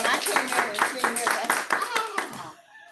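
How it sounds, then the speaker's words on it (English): An audience applauds at a school district board meeting: a short burst of hand clapping in quick rhythmic waves that tapers off after a few seconds. "let's applaud as a district"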